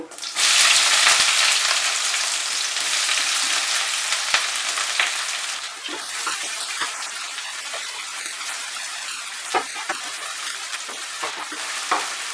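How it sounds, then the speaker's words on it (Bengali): Chopped onion hitting hot oil with bay leaves for Bengali mutton kosha, a loud burst of sizzling that settles into a steady crackling fry, broken by occasional spatula scrapes and taps. "কুচানো পেঁয়াজটা প্রথমে আমি ভেজে নেব।"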